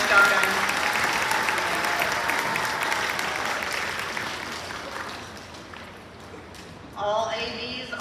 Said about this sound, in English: go ahead and give our all A's a round of applause again